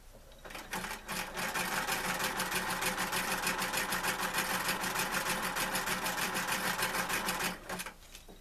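A sewing machine stitching a zigzag runs steadily for several seconds, a fast rhythmic mechanical whir and clatter that starts and stops abruptly, close by.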